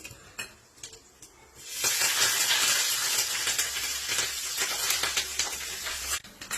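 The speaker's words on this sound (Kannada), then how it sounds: "ಒಗ್ಗರಣೆ ಹಾಕ್ತಾ ಇದ್ದೀನಿ" A chutney tempering of turmeric, asafoetida and curry leaves in hot oil gives a few quiet clinks, then a sudden loud burst of sizzling that hisses steadily for several seconds before cutting off.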